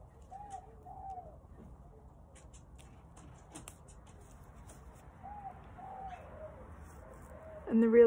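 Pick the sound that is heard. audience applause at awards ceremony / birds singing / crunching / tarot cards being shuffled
birds singing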